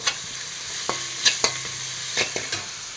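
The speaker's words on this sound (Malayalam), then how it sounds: "സവാള ഇപ്പം നന്നായിട്ടൊന്ന് മുരിഞ്ഞ് വന്നിട്ടുണ്ട് ഇനി ഇതിലോട്ട് ഇഞ്ചി വെളുത്തുള്ളി ഇട്ട് കൊടുക്കാം" A spatula scrapes and clacks through onions sautéing with crushed ginger and garlic in a pan for mushroom dal. Several distinct stirring knocks ride over a soft, continuous sizzle, with no talking.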